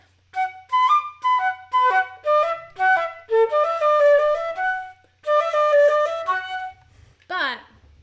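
A passage from Dutilleux's Sonatine played an alternative way, as quick, bright melodic runs in two phrases separated by a short gap, followed by a brief voice at the end.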